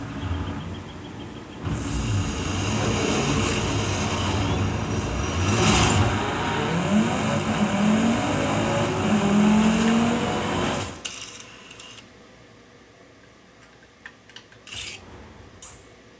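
A BMW X-Drive 50 in Forza Horizon 5 revs and accelerates with a steady, loud engine drone, rising in pitch, before cutting off abruptly and leaving faint scattered noises.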